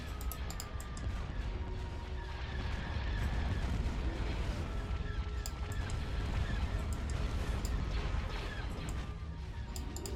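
Starship weapons firing in a Star Wars: Empire at War space battle, a dense continuous barrage of crackling blasts and rumbling impacts layered over a steady roar of combat.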